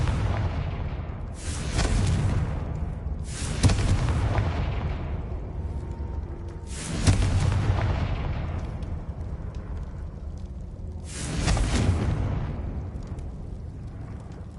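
Four heavy, booming explosions from the Confringo blasting spell in Hogwarts Legacy, spaced a few seconds apart, each a loud broadband burst with a rumbling low tail over continuous game background.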